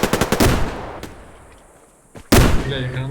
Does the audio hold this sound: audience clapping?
no